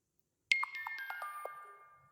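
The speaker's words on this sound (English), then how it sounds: "it will show you a lot of different notification sounds" A WhatsApp notification tone previews on an Android phone: a bright melodic chime of several quick descending notes that rings out clearly after brief silence and fades.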